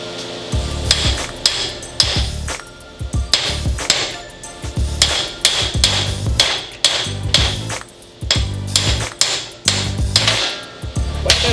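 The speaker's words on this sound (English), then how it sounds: "let's see if I have a ball peen hammer" A ball peen hammer strikes a homemade anvil in repeated sharp metallic blows, loud and close, with ringing pings between irregular clusters of hits, no talking.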